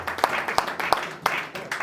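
A church congregation claps in a steady, rhythmic beat, several sharp claps a second, with voices mixed in.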